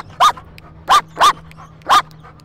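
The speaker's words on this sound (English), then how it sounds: "If I need to make Astro bark, all I have to do is give my fingers a click." A dog gives four sharp, loud barks close by, one isolated bark followed by three in quick succession, with no talking.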